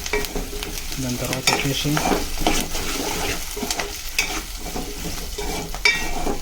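Cumin seeds and ginger-garlic paste stir-fried in hot oil, a steady close sizzle broken by scraping stirs, while a voice talks briefly over it.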